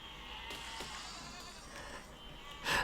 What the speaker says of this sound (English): I love how all the sheep are just running towards it.